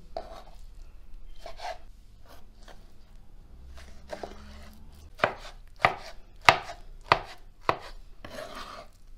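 A knife chops peeled eggplants and peppers on a board, first a few soft scattered cuts, then five or six sharp, evenly spaced knocks, close up with no talking.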